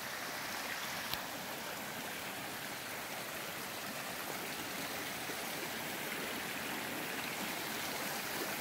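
A creek in an Oregon forest rushes in a steady, broad hiss of flowing water, constant and fairly loud with no voices.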